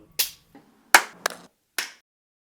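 A film-set clapperboard slate snapping shut at the start of a take, with four sharp, crisp claps spaced unevenly over a couple of seconds in an otherwise quiet room.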